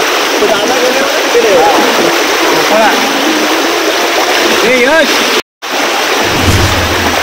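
A rain-swollen river near Lanja in Ratnagiri rushes loudly and steadily, with a brief cut in the middle, while people talk and call out over the roar of the water.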